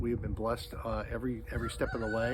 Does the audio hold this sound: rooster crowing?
yes